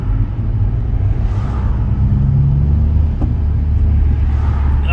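A loud, steady engine rumble with a deep throaty drone from a straight-piped BMW 123d diesel car with 240,000 miles, close by and continuous, swelling slightly midway.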